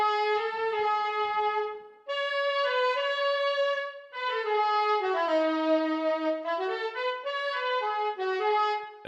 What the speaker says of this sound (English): This is the saxophone line that I wrote.